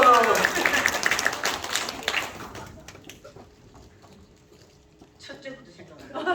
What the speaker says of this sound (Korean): 박수 한번 다시 한번.